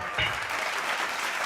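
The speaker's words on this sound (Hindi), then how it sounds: "शकुंतला जी के लिए एक बार जोरदार तालियां दोस्तों, जोरदार तालियां" Loud, dense audience applause at a Hindi community event in the hills, a burst of clapping from the start that stays steady and full for the whole stretch.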